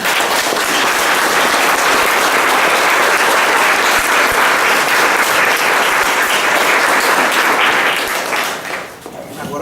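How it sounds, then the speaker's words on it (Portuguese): Loud, dense applause from a group of children at a church gathering, continuous and energetic before tapering off near the end. "Vamos bater palmas?"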